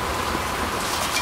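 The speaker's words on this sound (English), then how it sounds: "This is hail that's falling, these little things that are jumping." Hail falls steadily outdoors, a dense continuous patter of small pellets striking surfaces, loud and unbroken with no voices.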